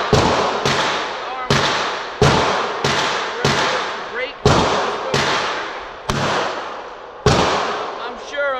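Glock pistol shots at a range, about a dozen sharp loud reports fired at a steady, unhurried pace, each ringing briefly before the next, with no talk.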